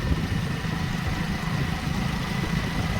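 A motorbike engine runs steadily on the road to the haat market in Bodeli, a low, even drone with no pauses and no talking.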